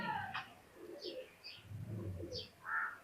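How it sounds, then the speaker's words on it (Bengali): Pakistani teddy high flyer pigeons coo in a loft, soft repeated rolling calls close by with a few brighter chirps, no talking over them. "এক সেট টেডি কবুতর।"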